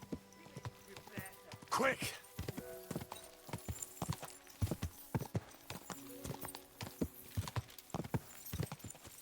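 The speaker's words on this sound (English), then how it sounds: "Watch out with that horse!" Rapid clip-clop of horse hooves trotting close by in the video game Kingdom Come: Deliverance II, with a whinny early on and a voice shouting briefly over the hoofbeats.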